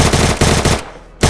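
Rapid automatic gunfire from Free Fire recreated in Minecraft, a loud close burst of evenly spaced shots, a short pause, then firing resumes.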